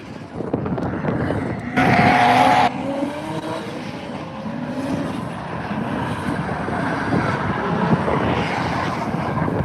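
A Nissan 350Z drift car on track, engine roaring loud and steady with rising and falling revs and a brief harsher burst early on, close by.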